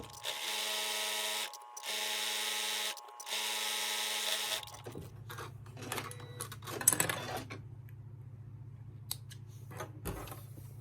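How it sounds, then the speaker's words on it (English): Sewing machine stitching a pocket onto a lined zipper pouch, heard as three steady bursts of rapid mechanical whirring with brief pauses, followed by a lower continuous motor hum with light clicks and handling noises. "I'm just going to start stitching."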